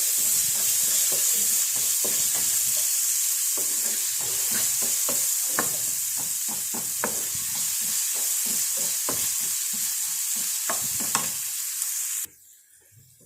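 Onion, coconut pieces and salt fry in a pan with a constant close hiss and sizzle, broken by repeated scraping stirs throughout, ending abruptly as the sizzle drops away.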